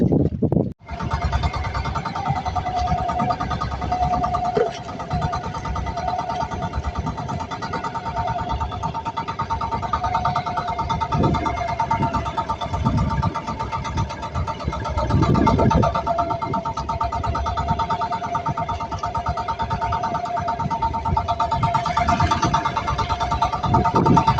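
A boat engine on a crabbing trip starts with a brief burst and then runs steadily, a loud, continuous mid-pitched drone with harmonic hum that lasts throughout, close by and alone.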